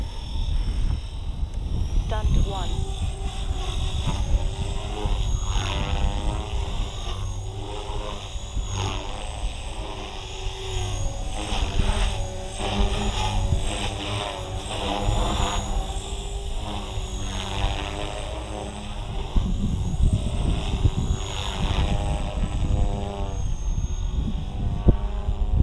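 A small Blade Fusion 270 model helicopter buzzes steadily with a high whining rotor and motor drone, pitch rising and falling as it maneuvers nearby, no voices.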